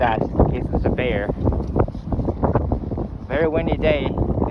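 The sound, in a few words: strong wind on the Alaskan tundra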